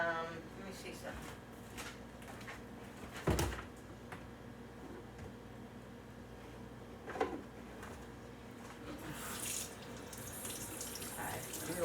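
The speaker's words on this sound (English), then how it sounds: "let me wash my hands first" A kitchen tap runs steadily for hand washing, a soft continuous stream of water with a couple of brief knocks or clunks, while a voice speaks faintly in the background.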